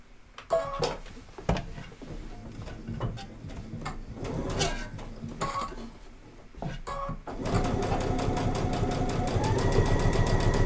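Sewing machine stitching a fabric face mask, with short bursts of needle running broken by pauses and handling clicks, then a longer steady run of stitching toward the end.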